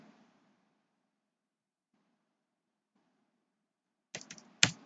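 A few computer keyboard keystrokes near the end of a mostly silent stretch, a quick cluster of sharp clicks followed by one louder key tap, close and isolated.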